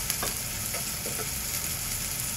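Tomatoes sauté in a pan until soft for a fresh cashew bhaji, giving a dense, continuous close sizzle with faint stirring scrapes and no talking.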